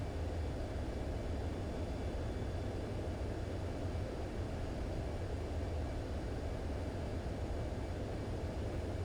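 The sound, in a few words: airplane engine in a video game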